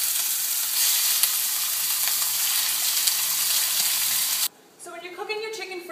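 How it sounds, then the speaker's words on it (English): Chicken pieces hit hot coconut oil in a stir-fry pan and set off a loud, steady sizzle. The sizzle cuts off abruptly near the end and gives way to quieter cooking sounds. "We're going to add our chicken in now. You're going to hear that sizzle."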